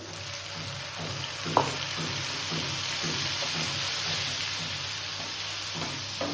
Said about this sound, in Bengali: এবার ভালো মতো কষিয়ে নেব।